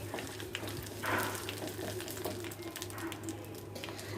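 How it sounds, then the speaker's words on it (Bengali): Whole cumin seeds fry in mustard oil at the start of a chicken kala bhuna, giving a steady, light sizzle with a low background hum and a slightly louder burst partway through. No one speaks. "জিরেটাকে একটু হালকা ভেজে নেব।"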